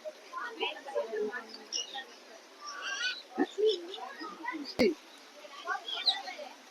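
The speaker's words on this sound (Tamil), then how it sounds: "நல்ல கலர்ஃபுல்லான பறவையா இருக்கான்" Birds in a Trichy bird park giving a busy mix of squeaky chirps and honking calls, fairly close, with people talking throughout.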